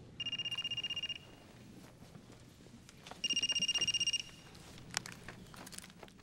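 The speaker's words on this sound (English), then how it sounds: "What phone is that? Is that your phone? We got a cell phone." A cell phone rings inside a church, giving two separate bursts of a bright, rapidly pulsing ringtone with a short pause between them, heard over low room noise and some faint rustling.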